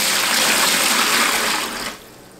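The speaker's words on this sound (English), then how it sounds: "I add a little bit more hot water to it." Warm water pours steadily in a loud gushing stream for about two seconds, then cuts off, leaving a brief quieter trickle.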